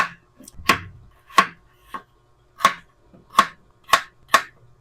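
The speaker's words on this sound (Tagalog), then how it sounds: "Hiwain na natin tong mga gulay natin. Next natin, carrots." A knife chops carrots on a board in a home kitchen, making about seven sharp, separate knocks in an uneven rhythm, close and clear with no talking.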